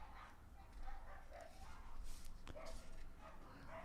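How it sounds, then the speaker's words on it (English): Dogs fighting outside, yipping and barking in the distance, a faint scuffle of yelps and whimpers over a steady background hum. "There's a dog fight happening outside."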